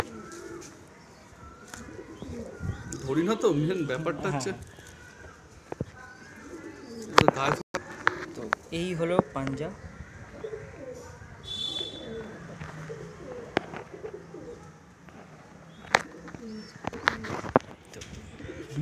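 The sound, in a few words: Madrasi pigeon cooing while being handled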